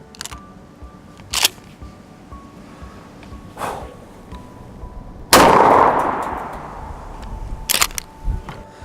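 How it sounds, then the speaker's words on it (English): A single loud 12-gauge blast of 9-pellet buckshot fired into an office cabinet, with a sharp crack that rings and rumbles away for a few seconds. Scattered clicks and knocks come before the shot, and no one talks. "the next round we're going to fire 12 gauge 9 pellet buckshot"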